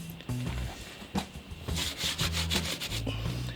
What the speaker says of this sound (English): Looks like the stripping discs work pretty well.